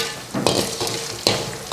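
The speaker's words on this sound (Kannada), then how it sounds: "ಕರ್ಬೇವಿನ ಸೊಪ್ಪು ಹಾಕಬೇಕು. ಅದು ಕೂಡ ಸ್ವಲ್ಪ ಫ್ರೈ ಆಗಬೇಕು." Curry leaves dropped into hot oil for chitranna, a loud close sizzle and crackle with sharp bursts as the leaves and spoon are stirred in the pan.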